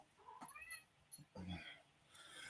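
A cat meows a few times at close range, brief drawn-out calls that are quiet overall, with faint background noise between them.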